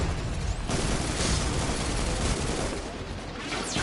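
Heavy, continuous gunfire and blasts from the video game Destiny 2, loud and dense throughout with a brief easing near the end, no talking.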